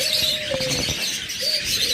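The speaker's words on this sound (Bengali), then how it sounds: "মাশাআল্লাহ স্বাস্থ্য চেহারা অত্যন্ত অ্যাক্টিভ প্রত্যেকটা ফিঞ্চ পাখি" Adult finches chirp and call in a busy aviary, thin bright tweets overlapping with a soft cooing tone, close and continuous with no talking.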